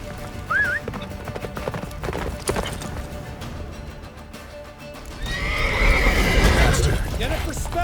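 A horse in The Witcher 3 gallops with clip-clop hoofbeats and gives a short, high whinny early on. Game voices talk over it, and a loud rushing wind from a blizzard builds toward the end.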